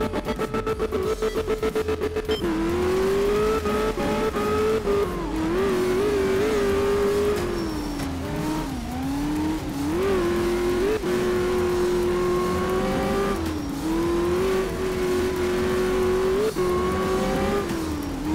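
A Group 4 rally car races a wet Sardinia stage in Art of Rally, its engine droning loud and steady while repeatedly revving up and dropping through gear changes, with brief tire squeals between pulls.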